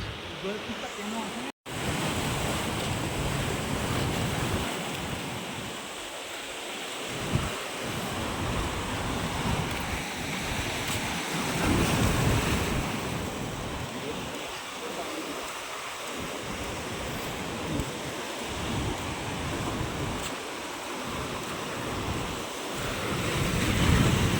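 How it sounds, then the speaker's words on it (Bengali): Sea waves roll in and crash onto the shore at Udaipur beach near Digha, a loud continuous surge and wash with wind buffeting the microphone and occasional voices under the roar. "জলটা এখানটা ঢেউটা আসছে"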